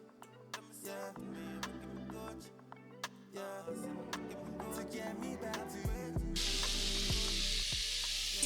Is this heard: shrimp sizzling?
yes